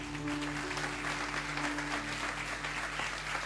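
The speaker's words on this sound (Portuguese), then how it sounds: "Pode aplaudir ao Senhor." A church congregation applauds during a worship service, a steady wash of clapping mixed with a sustained musical drone underneath, moderately distant.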